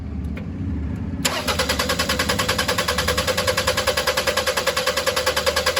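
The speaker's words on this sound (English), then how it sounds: "So let's go ahead and crank it." Toyota Highlander engine cranking at length with a fuel problem, the starter churning in a steady rapid rhythmic pulse that begins abruptly and continues loud and unbroken without the engine catching.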